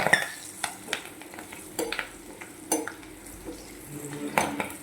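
Slit green chillies and curry leaves fry in a hot pan with a soft sizzle, while a utensil stirring and scraping against the pan makes sharp, irregular clinks and knocks.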